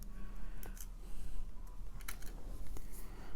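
Plastic keycaps are pried and clicked off a Commodore C64 keyboard during a repair, a run of sharp, irregular close clicks and snaps with no talk.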